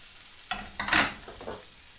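Garlic frying in a pan over low gas, with a few short scraping stirs and a soft sizzle rising in brief bursts, close and fairly quiet with no talking.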